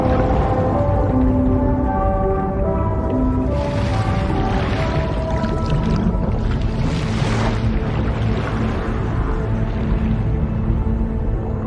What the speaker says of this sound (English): Discharging tar ballast tanks. DHV Magellan surfacing.